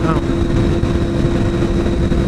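A Honda CBR600 F4i motorcycle engine holds a loud, steady drone throughout, mixed with a constant rush of wind-like noise and no clear changes in pitch.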